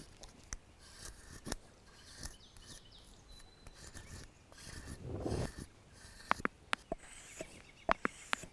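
A knife blade is drawn over an improvised fine-grit honing surface, giving quiet rubbing strokes with a few sharp ticks and scrapes, soft and close.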